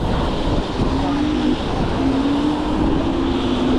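Strong wind buffets the microphone in a constant low rumble while riding a scooter through Auckland, with a faint tonal hum weaving through it.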